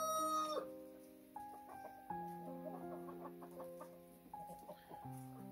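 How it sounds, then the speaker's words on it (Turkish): A flock of backyard chickens gathered beside a swimming pool clucks and calls in drawn-out, overlapping tones, fairly close but quiet, with the occasional longer crow-like note. "Evet, tavuklarımız çıktıktan sonra havuzumuzun kenarında toplandılar."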